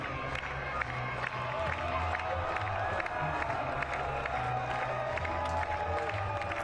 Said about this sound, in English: in front of a roaring home crowd in Spokane, Washington